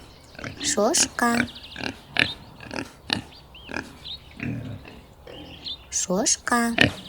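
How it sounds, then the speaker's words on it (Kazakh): A pig oinks and grunts in repeated short bursts, close and moderately loud, with squeaky chirping calls at the start and end, no talking over it. "шошқа"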